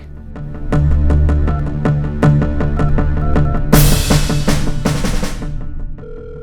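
A loud electronic ringtone plays as a repeating melodic pattern of bright tones, swelling into a denser burst before stopping.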